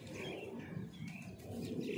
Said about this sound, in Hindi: ये कबूतर